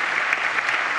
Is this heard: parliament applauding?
yes